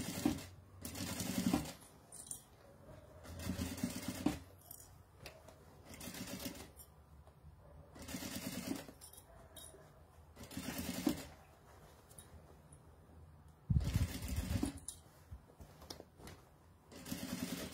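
A sewing machine stitches a seam on a small round piece, running in short bursts with pauses between them, close and fairly quiet, with no talking.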